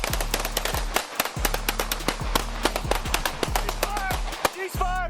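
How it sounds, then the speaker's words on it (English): Police gunfire in a street confrontation rings out as a rapid volley of sharp, loud shots, many in close succession with brief pauses, alongside shouting voices and a steady engine hum. "HQ, shots fired by police, shots fired for police."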